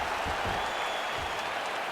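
Stadium crowd in the UFC 4 video game applauding and cheering in a steady, dense wash of claps and noise, moderately loud and continuous with no clear breaks.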